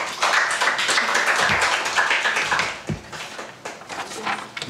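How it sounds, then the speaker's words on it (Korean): A church congregation at a Thanksgiving service claps together in a brief round of applause, moderately loud and close, then tapering off into scattered claps. "우리 박수 한번 치겠습니다"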